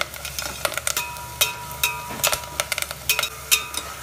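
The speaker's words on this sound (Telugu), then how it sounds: "ఇప్పుడు ఉల్లిపాయలు మగ్గుతున్నాయి కదా" Onions fry in a pan for spicy masala sambar, a steady sizzle punctuated by sharp clicks and scrapes of stirring, with no talking.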